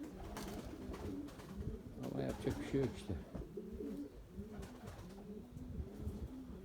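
White pigeons coo steadily in a low, rolling chorus while someone talks over them nearby.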